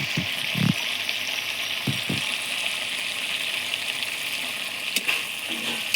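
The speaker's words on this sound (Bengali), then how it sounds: "কাজু বাদাম বাটা দিয়ে একটুখানি নেড়ে ছেড়ে নেবো" Prawns cooking in frying masala with cashew paste stirred in, making a continuous bright sizzle with a few soft stirring knocks and scrapes against the pan, no voices.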